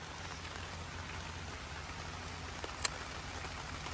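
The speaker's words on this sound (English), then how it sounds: "Looks like it started raining again." Steady rain patters down at a lakeside campsite in Bemidji, Minnesota, a soft continuous hiss of drops with one sharper nearby splat, no voices.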